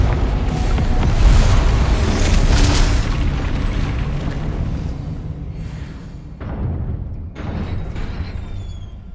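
A Confringo explosive spell in Hogwarts Legacy sets off a loud, heavy boom with a long rumbling tail that fades over several seconds, followed by two softer bursts near the end.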